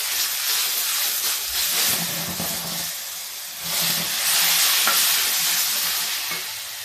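Ginger, garlic and onion paste frying in a hot pan for a brinjal curry, giving a steady, close hissing sizzle with stirring scrapes throughout; no voices.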